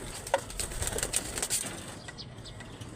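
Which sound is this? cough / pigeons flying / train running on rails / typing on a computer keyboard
pigeons flying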